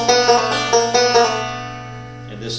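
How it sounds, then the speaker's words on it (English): Scruggs-style banjo inside-out roll in low-position G, a quick run of bright plucked notes with a steady drone, played close and alone before the notes ring out and fade. "is to actually do an inside-out roll."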